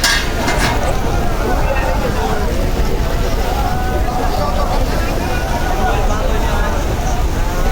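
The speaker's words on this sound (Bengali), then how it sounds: "নদীতে প্রচণ্ড বাতাস এবং বৃষ্টি হচ্ছে" Loud constant roar of a storm's wind and rain over a river, heard from a passenger launch, a dense unbroken rush filling the scene, with a voice speaking through it.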